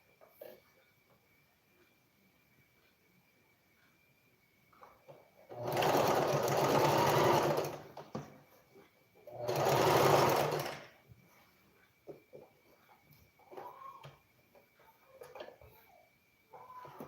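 Two bursts of a sewing machine running a loose stitch on Ankara fabric, each about two seconds of loud, close whirring, separated by quiet pauses with faint handling sounds.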